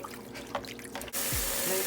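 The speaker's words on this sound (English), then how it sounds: "So next thing to do is to wash it and bring it out of the water so that it will not be so soft." Abacha, shredded cassava, is washed in water, giving a steady splashing and trickling that swells into a louder rush of pouring water midway.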